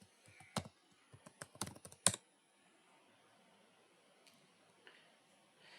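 Quick taps on a computer keyboard as a user ID and password are typed in, a short burst of clicky keystrokes over about two seconds, then near silence with faint room hiss.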